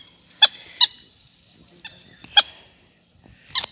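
Ducks with five ducklings at a lagoon give several short, harsh honking calls, close and spaced irregularly, with quiet pauses between them and no talking.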